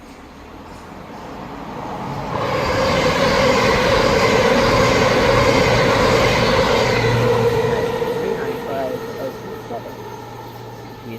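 A Southeastern Javelin high-speed train passes on the main line at Newington, its roar swelling in, holding steady for several seconds and then fading away, loud and near.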